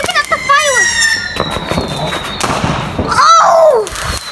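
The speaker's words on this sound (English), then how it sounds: "I'm just looking at the fireworks." Whistling Bonfire Night fireworks shriek upward and crackle in rapid bursts nearby, with people exclaiming amid the noise.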